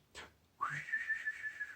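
A short whistled chirp, then a longer rising whistle held steady, clear and fairly close against a quiet background: gang members' signal whistles from the musical West Side Story.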